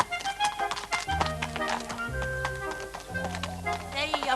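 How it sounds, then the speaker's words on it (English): Horse hooves clop on the ground in a quick irregular rhythm while people talk over them and music plays along, moderately loud and close. "I'm on a horse again."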